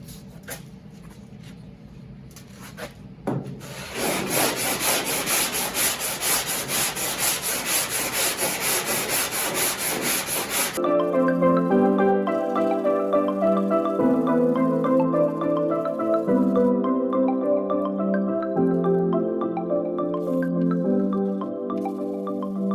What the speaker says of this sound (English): we'll let that dry and we'll sand this